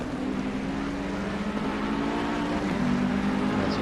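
Race car at full throttle in Assetto Corsa Competizione during a 12-hour Misano endurance race, a loud continuous engine roar with a slight pitch shift near the end.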